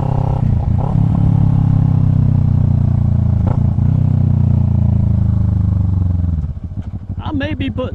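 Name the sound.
Kawasaki Ninja 650 motorcycle with Delkevic exhaust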